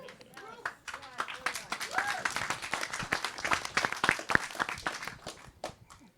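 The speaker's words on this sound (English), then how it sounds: "Are you applauding because you're relieved that it's over? Or because you loved it?" An audience applauds after a film screening, a moderately dense burst of clapping heard alongside talking voices.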